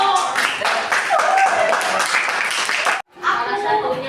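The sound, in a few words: audience applause in a classroom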